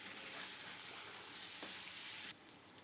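Mixed vegetables with eggplant, potato and okra sauté in a pan, a faint but steady sizzling hiss with a couple of small stir sounds, dropping a little quieter near the end.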